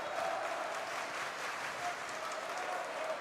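Crowd at a college women's volleyball match cheering and applauding, a steady, fairly distant roar of clapping and voices with no clear speech.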